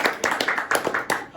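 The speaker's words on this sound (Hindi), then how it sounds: "ताली बजाइए।" Stage show audience clapping in unison on command during a live song performance, a rhythmic series of distinct claps about every fifth of a second, fairly close and loud.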